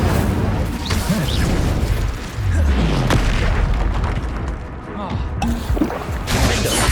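Spell explosions from Confringo and Incendio in the Hogwarts Legacy game, heavy booming blasts and bursts layered over continuous combat noise throughout, with voices calling spells over the action.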